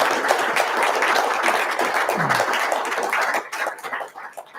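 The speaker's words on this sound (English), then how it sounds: "another round of applause for everyone" An audience at a panel discussion on AI and national security applauds the panelists with steady, dense clapping that holds for several seconds, then thins out and fades near the end.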